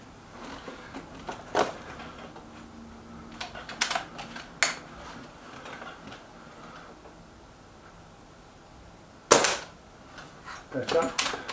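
A Reximex Ixia compact pellet air rifle fitted with a small silencer fires several sharp, close cracks at irregular intervals, with quieter mechanical clicks and faint handling noise between shots.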